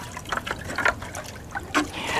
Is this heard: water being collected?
yes